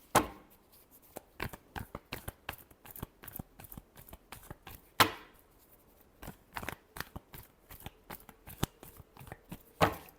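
Tarot cards being shuffled by hand give a rapid run of crisp flicks and papery snaps, with sharper bursts near the middle and at the end, close and with no talking.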